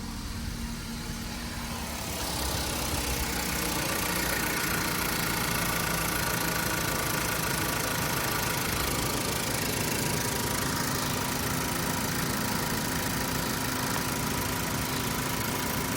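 A car engine, just started, settles into a steady idle. A loud, even mechanical drone with broad noise runs continuously for about fourteen seconds, after a quieter opening.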